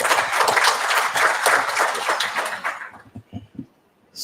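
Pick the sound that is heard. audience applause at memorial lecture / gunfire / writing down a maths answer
audience applause at memorial lecture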